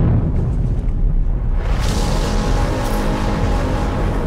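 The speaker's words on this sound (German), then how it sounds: "Ja, Nuke explodiert" A nuke detonating in the video game Dead Space 3: a loud, deep, rumbling blast that swells into a long roaring burst of noise and keeps rolling on without fading.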